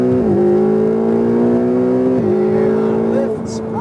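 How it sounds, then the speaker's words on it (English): A Ferrari 488 accelerates hard down the straight at High Plains Raceway, its engine note climbing steadily and loud with two brief dips at gear changes, heard from inside the car with talk over it. "Now accelerate down the straight"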